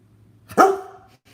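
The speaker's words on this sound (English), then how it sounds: "Why are you barking?" A Bernese mountain dog lets out a single sharp, close bark that fades quickly against a quiet background.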